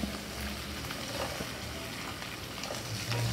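Chopped onion frying in hot oil in a pan with curry leaves, a steady, moderately loud sizzle and crackle that holds for the whole stretch, with no one talking.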